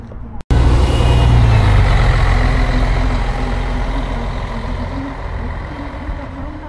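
Retro buses at the Retrobusy Chomutov gathering in Prague: a loud, close diesel bus engine rumbles steadily after a sharp click, idling and slowly fading slightly, with no talk over it.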